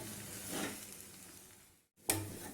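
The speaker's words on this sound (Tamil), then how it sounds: "கொஞ்சம் கொத்தமல்லி இலையும் சேர்த்து நல்லா மிக்ஸ் பண்ணிக்குவோம்" Potatoes and coriander leaves being stirred in a hot pan for a vegetable masala sandwich filling, a steady close sizzle with scraping strokes, a brief pause, then a louder burst of frying.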